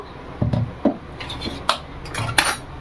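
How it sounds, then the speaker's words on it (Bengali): A metal wok set down on a stove, several close clanks and scrapes of metal on metal spread over a few seconds, with short pauses between the knocks, no speech. "এখানে একটা কড়াই বসিয়ে দেবো"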